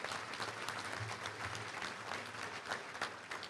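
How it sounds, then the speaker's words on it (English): An audience at a touchdown club luncheon claps for a family being honored, giving a steady round of moderate applause with no talking over it. "Let's give them a round of applause."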